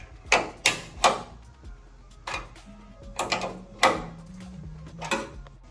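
Metallic ratcheting clicks of a 12 mm wrench loosening the bolts on the hatch gas struts of an RX-7 FD, several short sharp bursts close by with brief pauses between them.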